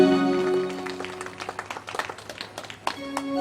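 Audience clapping at a devotional musical Bhagwat katha, scattered claps rising over a sustained harmonium-like musical drone, fairly close and moderately loud, with the music briefly returning near the end.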